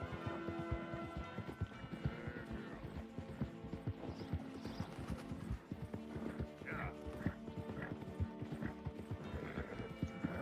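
A horse in the snowy setting of the video game Red Dead Redemption II clip-clops steadily along with repeated hoof beats and a whinny partway through, while someone talks over it.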